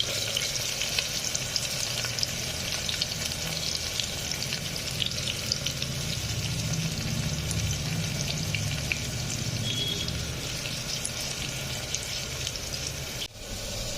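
Onions and green chillies sizzle steadily in hot oil inside a pressure cooker while goat-head curry is being made, a continuous close frying hiss with faint stirring, no talking.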